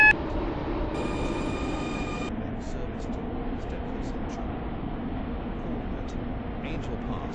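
A Class 707 train running in the Stepford County Railway game, a steady low rumble of motors and rails throughout, with an automated announcement tone at the start and faint higher clicks.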